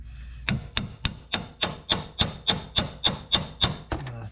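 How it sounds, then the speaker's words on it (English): A hammer taps at a sway bar end link on a Nissan 370Z during a coilover install, about a dozen sharp metallic strikes at an even, brisk rhythm, close and ringing, then a short scrape at the end. "Tap that sway bar end link"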